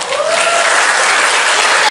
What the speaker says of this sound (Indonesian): Yang kedua, tepuk tangannya dong.